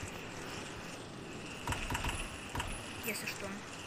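Keys jangling in the Roblox horror game DOORS, a few quick metallic rattles in short bursts over a steady game background hum, fairly quiet.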